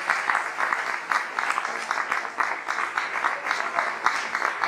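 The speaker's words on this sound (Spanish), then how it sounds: "Denle aplauso al Señor en esta noche." Sustained applause from a church convention crowd, loud and steady, with rhythmic swells as the clapping pulses.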